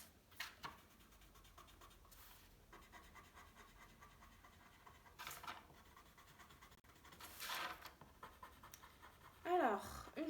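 Coloured pencils scratch across paper in short, intermittent strokes, quiet and close, with brief pauses between bursts of shading.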